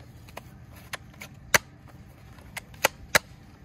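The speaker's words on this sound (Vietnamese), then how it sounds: "À, một khẩu súng đồ chơi nha. À, có thể bắn được đấy." A toy gun is fired several times, giving sharp, crisp snapping pops at irregular intervals, a few louder than others, close by over quiet background noise.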